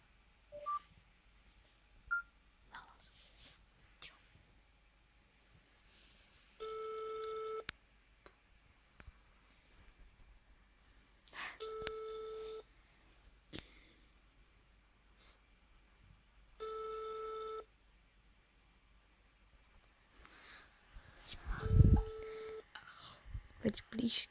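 Telephone ring-back tones during a prank phone call, heard as three evenly spaced bursts of a steady buzzing tone over a quiet line, with faint handling noise and a short rustle near the end.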